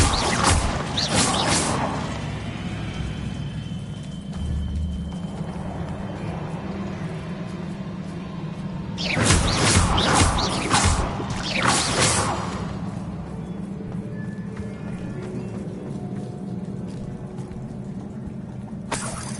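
Bombarda blasting spells strike in Hogwarts Legacy, loud crashing bursts with whooshing debris, one near the start and a larger cluster midway, over a low rumbling background.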